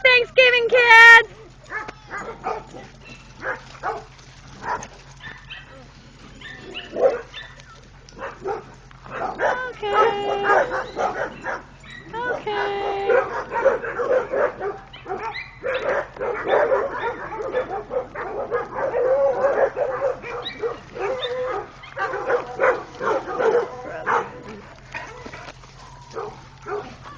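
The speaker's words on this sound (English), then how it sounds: "I think the neighbor dogs are going to be going inside pretty soon, so it'll quiet down." Neighbouring dogs bark, yip and whimper repeatedly at a ranch on Thanksgiving, the barks coming in irregular bursts under and between people talking.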